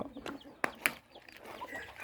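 A young cockerel clucks in short, sharp bursts with two louder calls standing out, against faint background noise.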